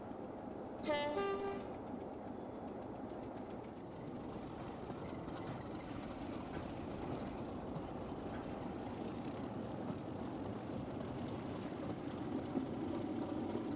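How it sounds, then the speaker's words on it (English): A class 37 diesel locomotive thrashes along steadily in the Trainz 22 simulator on a heritage railway route, with a short horn blast near the start, then a continuous engine roar and rumble of rolling wagons, with no speech. "Just hear the 37 thrashing behind as well."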